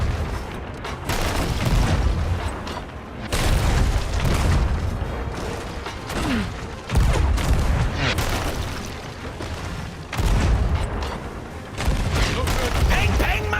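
Ship cannons boom repeatedly during a Sea of Thieves pirate battle, heavy blasts arriving every few seconds over constant loud game noise, with players talking excitedly throughout.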